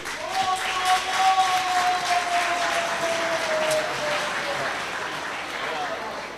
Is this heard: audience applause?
yes